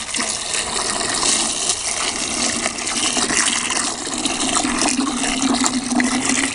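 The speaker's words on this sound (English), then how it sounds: "We're just going to fill the bucket and wash them up." Water gushes steadily into a garden bucket being filled to wash freshly harvested miniature Nantes carrots, a continuous loud splashing rush that holds without a break throughout.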